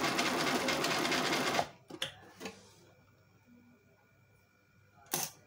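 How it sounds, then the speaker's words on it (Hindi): A manual Singer sewing machine runs a plain straight stitch in a fast, even whir for under two seconds, then stops, leaving a few faint mechanical clicks and one sharp knock. "तो ये मशीन जो है ना मैनुअल जो है ना सादा सिलाई करेगी।"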